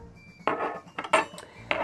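Metal cutlery clinking together, several sharp, close jingles and taps in irregular bursts, clear and alone without any voices.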